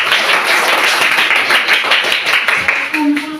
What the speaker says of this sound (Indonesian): silakan dulu sambil tepuk tangan